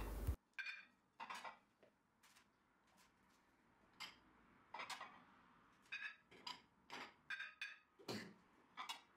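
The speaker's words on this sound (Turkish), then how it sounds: "Balkona 7 kişilik servis açıyorum hemen." Dishes and cutlery clink on a balcony table as places are set for seven guests. Scattered sharp, light clinks and taps arrive in quick irregular clusters, fairly faint, with no talking.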